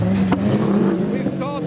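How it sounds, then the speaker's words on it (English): Nissan S14 engine at JapFest, revving loudly among crowded car traffic with a steady low drone and rising pitch, people talking over it. "Revolutions from the S14 as per usual."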